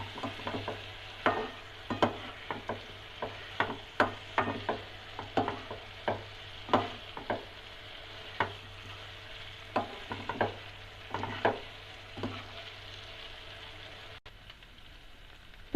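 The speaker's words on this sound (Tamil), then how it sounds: "சிக்கனில் ஃபுல்லாக மசாலா செய்கிற மாதிரி நல்லா மிக்ஸ் பண்ணி விட்டுக்கலாம்" A spatula scrapes and tosses chicken coated in pepper powder masala around a pan, making a quiet, uneven series of sharp scrapes and taps over a faint low sizzle, with no speech.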